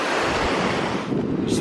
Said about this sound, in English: bloody creek crossings.